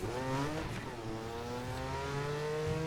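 Steady close engine drone of a Porsche 996 GT2 driving in the racing game The Crew 2, its pitch sweeping up and settling as it revs along.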